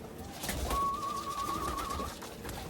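A racing pigeon hen coos near the loft on return from a 285 km race, a soft close coo over a steady whistling tone and light background noise.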